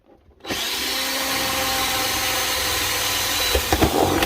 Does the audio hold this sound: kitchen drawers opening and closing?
no